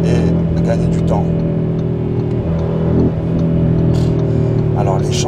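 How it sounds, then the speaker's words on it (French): Small car accelerating hard through traffic, a mid-pitched engine revving and climbing steadily at close range, with other vehicles and faint voices around it. "Ce qui est bien avec une petite voiture et en plus qui accélère fort, c'est qu'on peut s'insérer et gagner du temps."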